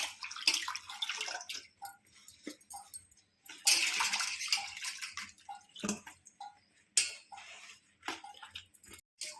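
Fresh taro leaves are rinsed one at a time in water for a home-style Telugu curry, giving bursts of splashing and dripping with short pauses between them, close and fairly quiet, with no talking.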